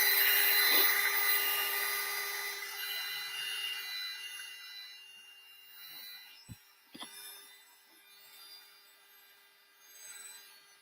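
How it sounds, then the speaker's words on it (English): A heat dryer blows steadily on wet blue paint over rice paper on a large oval blank, a broad airy whir that starts loud and slowly fades, broken by a couple of brief knocks near the end. "I'm going to hit that with the dryer."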